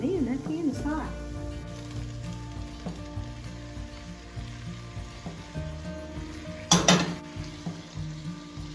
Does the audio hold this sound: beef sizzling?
yes